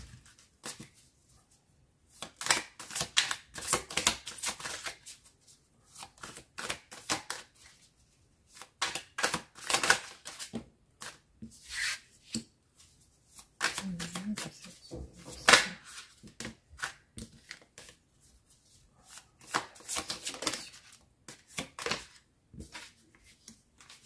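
Tarot cards are shuffled and riffled in repeated bursts of papery flicking, close and crisp, separated by brief quiet pauses.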